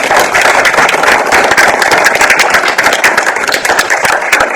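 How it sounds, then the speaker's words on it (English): Audience applause for nature photographer Jonathan Malek at an artist talk, a steady dense wash of many hands clapping, loud and sustained throughout without talk. "Let's give Mr. Jonathan a round of applause."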